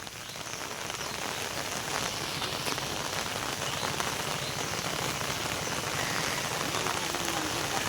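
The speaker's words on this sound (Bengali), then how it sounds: "যখন বৃষ্টি হচ্ছে সাদা হয়ে গেছে চারদিকে" Steady, dense rain pours down outdoors near a field where a tractor is being serviced, a continuous close hiss of drops striking surfaces with no break and no voices.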